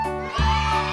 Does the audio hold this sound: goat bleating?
yes